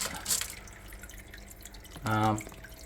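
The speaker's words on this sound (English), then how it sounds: "I've put a little pump in at the back, circulate the water, clean it out a bit, stop from going stagnant." A small pump circulates water in a wetland-style snake enclosure, producing soft trickling and dripping, with a brief louder splashy burst near the end.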